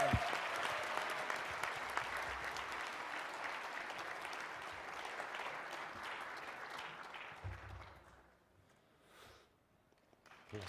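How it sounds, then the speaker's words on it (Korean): Church congregation applauding a guest lecturer at a Korean church service: sustained dense clapping from a large crowd that swells and holds, then thins out and fades near the end. "힘찬 응원의 박수 합시다"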